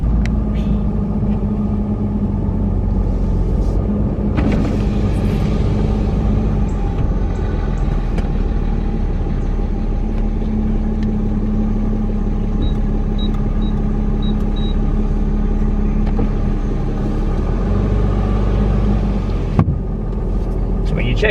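Vehicle rolling slowly around a campground loop at an Army Corps of Engineers site near Wilkesboro, North Carolina, a steady loud cabin rumble and road drone throughout, with a voice talking over it.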